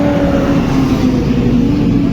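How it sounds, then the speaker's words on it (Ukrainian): Tractor engine running close by, a steady loud low rumble with a faint droning whine over it, holding at an even level with no voices. "Трактор."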